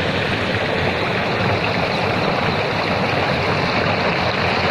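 Water from a borewell pours into a farm chamber in Gujarat, a loud, constant rushing and gurgling flow close by, with no pauses and no talk.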